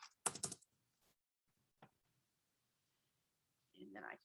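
Notes typed on a computer keyboard, heard as a short burst of close key clicks at the start and a single tap later, quiet, with a brief bit of talking at the end.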